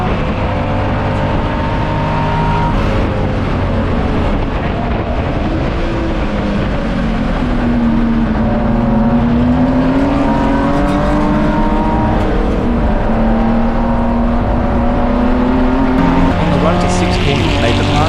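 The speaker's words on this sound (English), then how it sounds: "Exiting free, it was a horsepower battle, with Corny tucking in behind by the time they got to 4." Touring cars, a Commodore among them, roar past on a race track in a Queensland championship race, engines droning loud and continuous with shifting pitch as they battle side by side, while a commentator talks over them.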